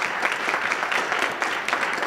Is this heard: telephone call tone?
no